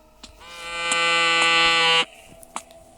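A buzzing electronic tone sounds in a horror video game as a message notification, one loud harsh drone lasting about a second and a half with faint clicks around it.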